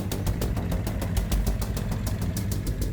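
Motorbike engine running close by, a steady low rumble with rapid, even ticking pulses over three seconds and no voices.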